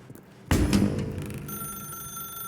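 A telephone rings in The Stanley Parable video game, a sudden loud bell-like ring that starts sharply, then decays into a lingering electronic tone, with no talk.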